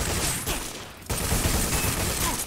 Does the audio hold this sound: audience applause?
no